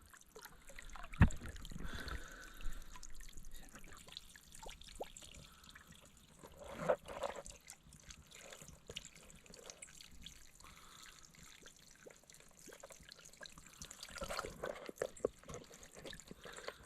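Spring water flowing out of a mountain spring on Geumwonsan, a soft, steady trickle and splash that stays quiet and continuous with no voices.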